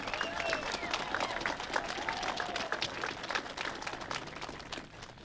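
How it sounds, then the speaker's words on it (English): Audience applause at a college football championship rally, a steady wash of many hands clapping at close range that holds for several seconds, with some crowd noise and a voice beneath it. "Please join me in a round of applause for the people who made today's event possible."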